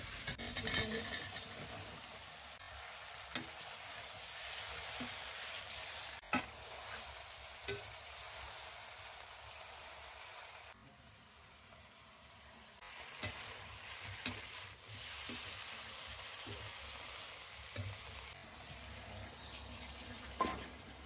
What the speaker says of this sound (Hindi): इधर कढ़ाई में हमने डाल दिया है तेल इसमें थोड़ी सी मेथी डाला है